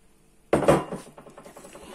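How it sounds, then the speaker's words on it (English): Boiled potatoes being mashed with butter in a pot for a vegetarian shepherd's pie: a sudden loud clatter of utensil on pot, then softer repeated scraping and thuds that fade unevenly. "So that's how I mash it."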